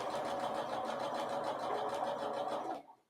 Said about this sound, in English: And we're going to sew this seam.